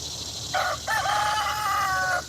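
A rooster in a garden crows once, loud and nearby, in a drawn-out call with a short opening note and a longer sustained tail over steady outdoor background noise.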